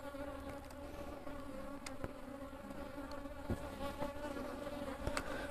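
Honeybees buzz around a swarming hive in a dense, continuous drone, loud and close, with individual bees zipping past now and then.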